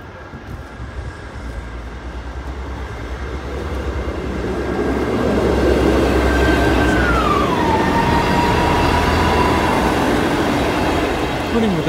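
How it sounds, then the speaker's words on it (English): An East Midlands Railway class 158 diesel passenger train in temporary purple livery passes a level crossing, its rumble building over the first few seconds and staying loud and steady to the end, with a sustained warning tone heard throughout. "the final passenger train, which is one that covers the whole of our network, and it's one of the temporary purple 158s"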